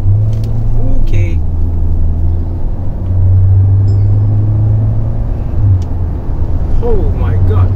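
A Mahindra XUV700 petrol automatic SUV cruises on an open highway stretch with a steady low engine and road rumble inside the cabin, while someone talks over it.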